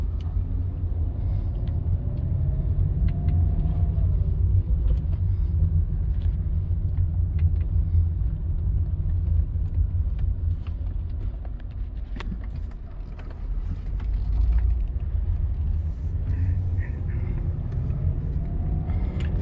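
A BMW E38 740i with a manual gearbox driving on the road, its engine giving a steady, loud, low rumble that holds throughout with slight swells as it pulls; no voices.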